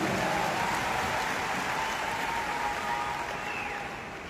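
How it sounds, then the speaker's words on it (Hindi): Applause from an audience at a business event in India, a dense steady wash of clapping at a constant level that tapers slightly toward the end. "तो आप सबके लिए तो मैं चाहूंगा एक बार जोरदार तालियां मैं बजाऊंगा।"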